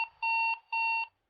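Loud alarm clock for heavy sleepers sounding two long, shrill electronic beeping bursts, each about a third of a second, separated by a short pause, close and alone.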